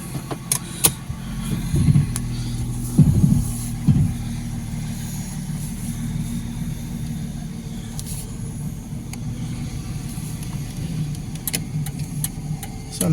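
An old Ford Mustang under restoration, unregistered and on fresh tires, drives around the block at night, its engine a steady low rumble heard from inside, with a few louder revs early on and occasional clunks.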